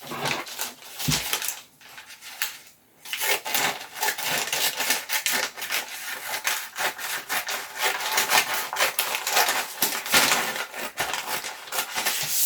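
Fabric being cut with scissors to shape a box sleeve, giving a steady run of rasping snips and rubbing strokes that carry on with brief pauses, close and fairly loud, with no talking.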